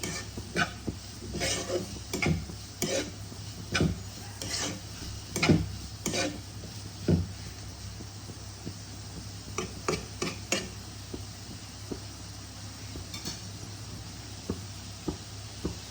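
Chopped carrots stirred and frying in a pan for samosa filling, with repeated light clinks and scrapes of a utensil against the pan over a steady low sizzle and hum.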